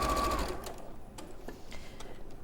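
A sewing machine stitching quilt seams gives a fast, close mechanical whir at the start, then stops, followed by soft handling clicks and fabric rustles.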